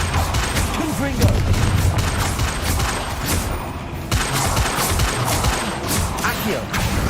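The Confringo fire blast spell goes off in Hogwarts Legacy, heard as a burst of crackling, booming impacts with sharp bangs and rumbles across several seconds, loud and close, mixed with game sounds and a voice calling out.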